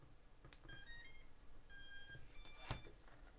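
Three bursts of high-pitched electronic beeping from drone electronics after a battery is plugged in, each a rapid chirping trill, sound close by in a quiet room.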